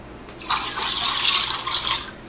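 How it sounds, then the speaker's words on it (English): A mermaid tail toy set down on a surface gives off a steady whooshing, watery ocean-like hiss that starts abruptly and holds for about two seconds, fairly close and with no talk over it. "And if you put it down like this, it makes that ocean noise."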